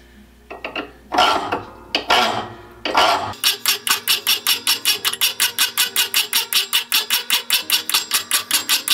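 A thread restoring file is drawn across the pilot threads of an auger bit, first with a few slow, long rasping strokes, then a rapid, regular run of short filing strokes, close and loud.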